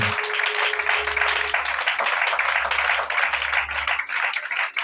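A church congregation applauding Jesus Christ with sustained, dense clapping from many hands, loud and continuous for several seconds and fading slightly at the end.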